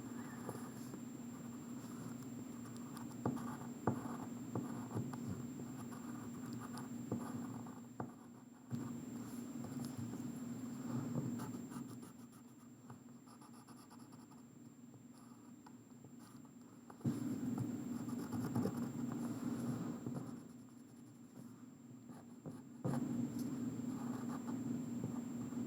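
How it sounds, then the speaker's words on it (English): A pencil sketches geometry figures onto paper, with soft, close scratching strokes in bursts, separated by quieter pauses, over a steady low hum. "Now, we are going to sketch those figures back onto our page."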